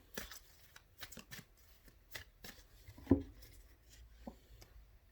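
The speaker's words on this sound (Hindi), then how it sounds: "अब लास्ट कार्ड निकालते हैं, आउटकम।" Tarot cards being shuffled and drawn, a series of soft, close riffling and flicking bursts with short pauses between them and one sharper card snap near the middle, quiet and without talk.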